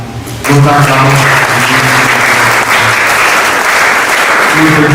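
A church congregation at a Sunday service breaks into loud, dense applause that starts abruptly and holds steady, with voices and singing mixed in throughout.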